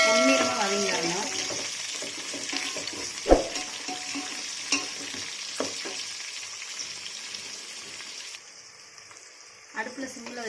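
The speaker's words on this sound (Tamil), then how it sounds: "அடுப்பில் சிம்மில் வச்சு நல்லா வதக்கி விடணும்." Onions sauté in a pan for chicken biryani, a steady sizzle with stirring scrapes and a few utensil clicks, close and moderately loud, easing softer toward the end.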